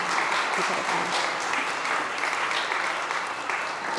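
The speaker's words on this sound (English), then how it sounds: "Give him a round of applause." Audience applause at a SXSW 2025 food-systems talk, a dense steady wash of clapping that carries loudly through the whole stretch with no pause.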